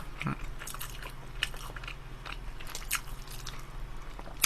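Close crunchy bites and wet chewing of a Lotteria bulgogi burger with a beef patty, several crisp bite crackles spread through the clip over a low steady background hum.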